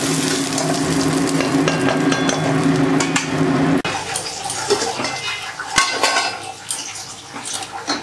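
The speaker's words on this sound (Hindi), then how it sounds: "और कुछ फिश यहाँ पे फ्राई हो रहा है।" Fish frying in oil in a pan during a Bengali home lunch cook, a steady broadband sizzle throughout with a few faint clinks of utensils, louder in the first half then slightly quieter.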